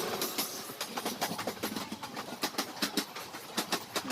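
A train rolls past outside a window seat on a rail journey from Uppala to Payyanur, its wheels beating out a steady clickety-clack that grows sharper and more rhythmic toward the end, loud and close with no voices.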